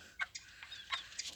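Young chicks in a brooder cheeping in short, sharp bursts, several faint high peeps scattered irregularly over a quiet background.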